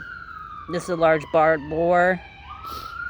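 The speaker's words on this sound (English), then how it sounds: "I'm sorry about the sirens." A wailing emergency siren rises and falls in the background of a small-town garden while someone speaks briefly over it.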